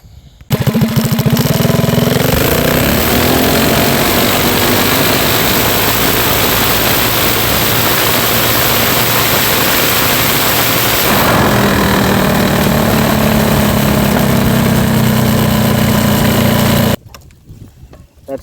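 A Go Power Sports Rascal GT drag mini bike engine is held at full throttle, a loud, sustained buzzing roar that keeps going for about fifteen seconds with a slight change in tone partway before stopping abruptly.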